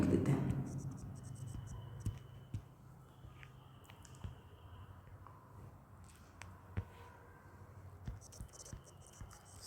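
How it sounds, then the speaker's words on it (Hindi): Pen writing notes by hand on paper, faint scratchy strokes with small taps running steadily over a low hum, starting just after a brief burst of voice. "चलो नोट में करके लिख देते हैं।"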